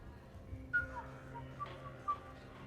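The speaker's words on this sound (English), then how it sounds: "Are you whistling?" A character in the Mass Effect 3 video game whistles a few short, faint, high notes spaced over a couple of seconds against a quiet room backdrop.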